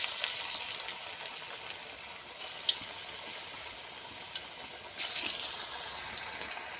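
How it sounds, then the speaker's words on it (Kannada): Onion bhajji batter frying in hot oil gives a soft, steady sizzle with faint crackles and small pops, close and fairly quiet. "ಈ ಎಣ್ಣೆ ಕಾಯ್ದೈತ್ರಿ. ಈಗ ಬಿಡ್ತೀನಿ ನೋಡ್ರಿ ಫ್ರೆಂಡ್ಸ್."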